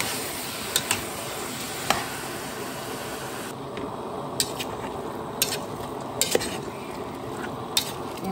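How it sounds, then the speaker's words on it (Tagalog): Chicken pieces for tinola being stirred in a pot, with a low continuous bubbling sizzle and occasional sharp clinks of a utensil against the pot, steady and close. "nilagay na po natin yung chicken. Ayan. Tapos haluin po natin yan guys"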